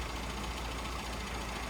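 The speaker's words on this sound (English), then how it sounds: "Okay, so we are back idling" A tuned car engine idles lean with a constant low rumble and even hum, no speech, holding the same level throughout.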